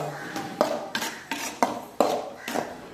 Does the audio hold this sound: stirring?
yes